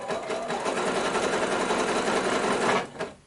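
A sewing machine stitches on buttons in a quilting project, running in a fast, steady rattling whir that stops abruptly near the end.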